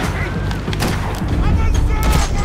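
Rapid gunfire bursts and booms from Max Payne 3 sound dense and loud, with mechanical clicks mixed in throughout.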